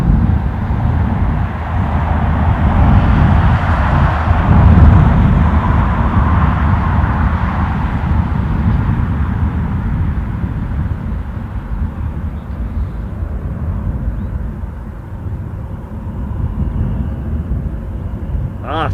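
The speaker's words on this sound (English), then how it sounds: "Cessna 550 Citation Bravo. That does sound impressive." A Cessna 550 Citation Bravo business jet roars with loud, sustained engine noise at an airport runway, swelling and easing slightly across its length with no voices.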